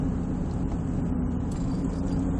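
A BMW 318ti turning into a hard right-hand corner while lapping Virginia International Raceway, its engine a steady continuous drone with road and wind noise, heard from inside the car.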